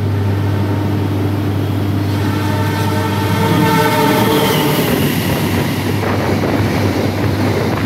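Bima express train running at speed straight through a station on track 2, a loud, close roar of passing cars with a long horn blast and rhythmic wheel clatter, with no talk.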